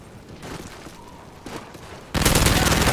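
Loud, dense burst of gunfire in Call of Duty: Modern Warfare 3, a 3v3 multiplayer match, erupting abruptly near the end after quieter game ambience with scattered soft sounds.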